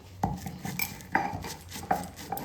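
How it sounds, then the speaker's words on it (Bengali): Roasted whole spices being coarsely crushed for a raw mango pickle: a handful of sharp, ringing knocks at irregular intervals, close and fairly loud, with softer scraping and rattling in between. "এখানে গোটা ভাজা মশলাগুলোকে পুরোপুরিভাবে মিহি করে গুঁড়ো করব না, আধ ভাঙা করে গুঁড়ো করব।"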